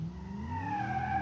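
Car wheelspin in BeamNG, tires spinning with rising whine and steady engine drone, continuous and fairly close with no talk.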